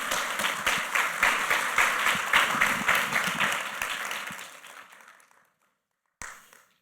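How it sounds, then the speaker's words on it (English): An awards-ceremony audience honoring anti-trafficking activists claps steadily, the applause swelling and then fading out over several seconds, with a brief short burst of clapping returning after a pause. "shall we applaud these heroes against human trafficking one more time?"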